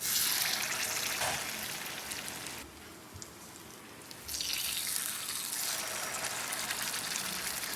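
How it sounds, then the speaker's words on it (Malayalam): Banana unniyappam balls dipped in rice batter sizzle in boiling oil, a steady hissing fry with a quieter stretch in the middle before the crackle returns at full strength. "നല്ല തിളച്ച എണ്ണയിലോട്ടിട്ട് പൊരിച്ചെടുക്കാം"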